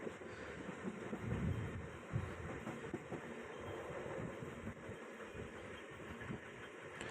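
Train rolling along tracks beside several parallel lines near a busy market area, a steady low rumble with faint rattling, fairly quiet and continuous, with no voices.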